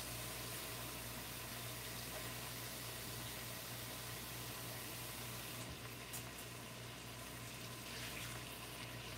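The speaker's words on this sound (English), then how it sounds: "I'm just going to go over to the sink and start rinsing it out" Tap water runs steadily into a kitchen sink as masoor dal lentils are rinsed, a continuous close hiss and splash with no talking.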